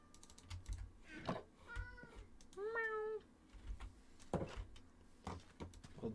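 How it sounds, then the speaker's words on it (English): A cat meows twice in Minecraft, short rising-falling cries heard quietly over clattering computer keyboard typing and low background noise. "was that a cat?"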